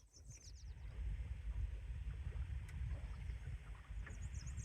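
A West Wight Potter sailboat ghosting along on calm water, with a steady low rush of water and wind around the small hull and faint bird calls in the distance.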